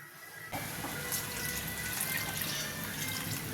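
Water pours steadily into a pot of chicken curry (chicken kulambu), a continuous close splashing rush that starts abruptly and runs unbroken to the end.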